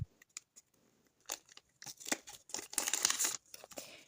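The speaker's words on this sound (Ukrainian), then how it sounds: "давайте ж відкривати наш з вами пакетик" Crinkling and tearing of paper, close up, in short rustles that build into a longer rip before settling into scattered crackles.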